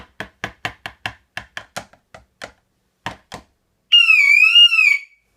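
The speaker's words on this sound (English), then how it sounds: "I'm going to just tap the window and pretend I'm trying to break the window open" A screwdriver taps window glass a dozen times in a quick, uneven series, followed by a loud electronic alarm from an HKC Quantum wireless alarm system in test mode, wailing in a wavering high tone for about a second.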